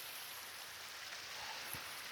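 A small fountain of running water beside a Swiss hiking trail, a soft continuous splashing trickle, even and unbroken, with no voices.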